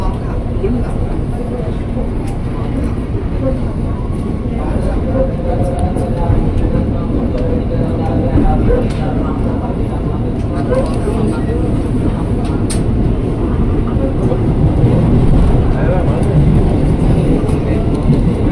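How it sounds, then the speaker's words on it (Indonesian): A KRL commuter train bound for Depok runs steadily with a continuous low rumble and rolling drone, heard from inside the car. Voices talk over the noise the whole way through. "ini dia komuter tujuan Depok"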